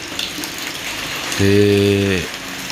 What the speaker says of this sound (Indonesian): Tapi suasananya kalau sore ini mesti hujan lor.